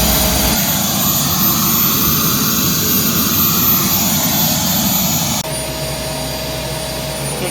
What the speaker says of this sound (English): now we'll get the blades going